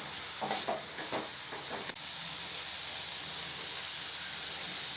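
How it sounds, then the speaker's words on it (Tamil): Roasted ground spice powder being stirred into a cooked beetroot stir-fry in a pan. Steady soft sizzling with a few scraping stirs near the start, with no talking. "இப்போ வறுத்த அரைச்ச பொடியை இதோடு சேர்த்துடலாம்."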